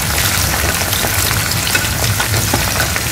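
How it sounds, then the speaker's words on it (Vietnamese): Shrimp fry in very hot oil, a loud dense crackling sizzle that holds steady throughout with small popping spatters, heard alone without talk. "Mình sẽ cho chiên tôm này 2 lần nha. Một lần mình sẽ chiên cho nó khoảng 2 phút như thế này."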